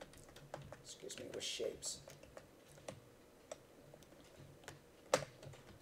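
A computer keyboard clatters in scattered, quiet bursts of keystrokes with one sharper clack while an instructor speaks during a C programming lecture.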